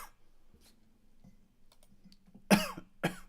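A person coughs twice, close and sharp, after a quiet stretch of faint clicks and soft taps.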